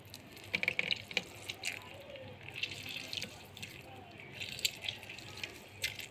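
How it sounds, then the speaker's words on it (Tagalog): Water poured into a blender while making a carrot, cucumber and orange smoothie shows up as irregular splashes and trickles, faint and intermittent, with light clatter between pours. "tapos lagyan natin ng kunting tubig"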